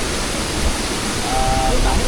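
Steady broadband rush of a waterfall in the karst forest of Kayan Mentarang National Park, a constant wash of falling water heard up close, with a faint thin tone partway through.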